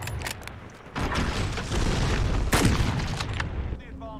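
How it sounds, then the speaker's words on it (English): Sniper rifle shots in a shooter game, several loud sharp cracks and booms scattered over a few seconds amid busy game noise, with a strong blast near the middle. "He missed like 4 shots."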